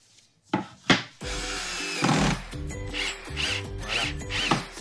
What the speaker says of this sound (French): Donc on va commencer par visser les grandes